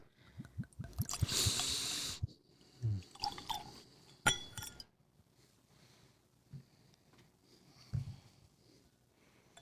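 Thick, heavy glass bottle of Glenfiddich Grand Cru 23-year-old Scotch whisky knocking and clinking as it is handled, a few sharp close taps and rattles scattered among quieter handling noises, with no talk.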